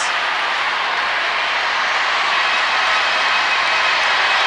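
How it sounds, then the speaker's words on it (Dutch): A steady, broad roar of a large crowd, loud and continuous with no breaks, sounding like an arena audience cheering throughout. "Hoor het publiek."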